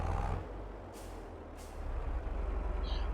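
Truck air brakes hiss twice in short bursts over a steady low engine rumble, with a faint high tone near the end, from a farm truck in Farming Simulator 22.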